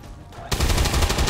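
Rapid automatic gunfire from the XCOM 2 video game erupts suddenly after a quiet moment, a loud, fast rattle of repeated shots continuing to the end.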